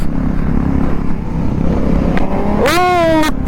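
A Kawasaki ZX sport motorcycle engine rumbles low at idle, then revs sharply upward for under a second near the end, a loud, close rising whine that holds briefly before cutting off.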